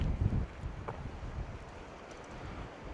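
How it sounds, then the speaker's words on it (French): Wind buffets the microphone at the seashore during low tide with a low rumbling roar, strongest in a brief gust at the start, then a steady blustery noise. "Il y a du vent quand même."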